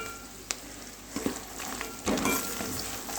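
Makhana (fox nuts) fry in oil in a pan with turmeric, a steady close sizzle broken by several scraping stirs and light knocks against the pan.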